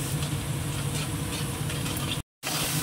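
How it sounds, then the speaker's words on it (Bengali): Curry masala paste sautéing in a pan, a steady close sizzle and fry with a brief gap near the end. "এবার এটাকে একটু কষিয়ে নিয়ে আগে, কাঁচা গন্ধগুলো সব যাতে মরে যায়।"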